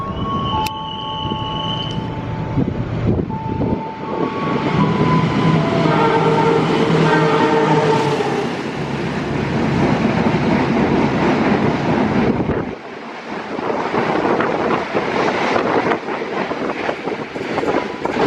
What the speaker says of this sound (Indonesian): Kemudian jalur 4 akan melintas kereta api Taksaka 43.